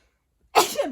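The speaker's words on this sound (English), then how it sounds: "hold on, I gotta sneeze." A single sharp sneeze bursts out after a moment of silence, loud and close, trailing off in a breathy exhale.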